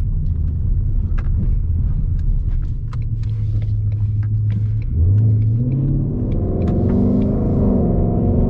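A Ford Mustang GT's engine rumbles at close range, with a steady low drone that rises into a throaty rev partway through and then holds at a higher pitch.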